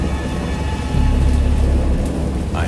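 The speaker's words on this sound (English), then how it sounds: "I have indistinct recollections of a great storm sometime after I reached the boat." Thunderstorm in the Lovecraftian game Dagon: steady heavy rain hissing over a low rolling thunder rumble that swells partway through, continuous and close with no voices.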